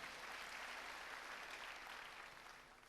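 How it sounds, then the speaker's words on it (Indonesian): Applause from a church congregation giving thanks to God, a dense steady wash of many hands clapping at a distance that fades slightly toward the end. "Kita berikan tepuk tangan buat Tuhan."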